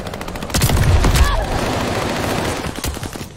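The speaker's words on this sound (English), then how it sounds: "They're taking fire." Rapid bursts of gunfire in the online shooter Call of Duty Vanguard, a dense crackling volley that peaks early and then thins into scattered shots, heard up close and loud.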